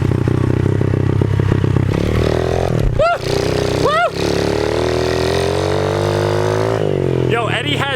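A motorcycle rides steadily with a continuous engine drone and wind rumble throughout, broken by a couple of brief bumps, while a person talks over it in a casual vlog setting in California.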